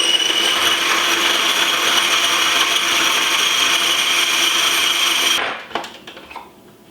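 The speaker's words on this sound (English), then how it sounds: "I throw them in the food processor" A food processor grinding cornbread for Thanksgiving dressing, a steady loud whirring buzz that runs for several seconds, then cuts off and winds down with a few faint clatters.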